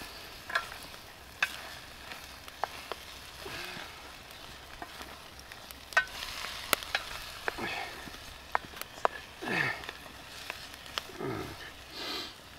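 Stir fry sizzling and being stirred in a Bush Box XL camp stove, a faint steady hiss broken by scattered clicks and scrapes of the utensil, with no voices.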